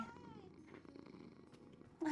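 Cat purring, a faint low continuous rumble, with a short meow near the start and a brief louder sound at the end.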